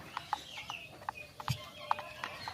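Young turkey poults about two months old on a farm give a series of short chirping calls, each a brief peep repeating irregularly at moderate distance, with no talk over them.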